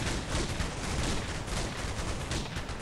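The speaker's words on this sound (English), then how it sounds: "As a barrage of bullets," Dense gunfire rattles without pause in the video game Zero Distance, a thick barrage of overlapping shots that stays loud and close for the whole moment with no voices over it.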